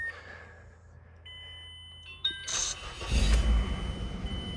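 A Mazda5 that had been thought to have a seized engine, with warning chimes beeping before the starter cranks and the engine catches into a low, steady idle.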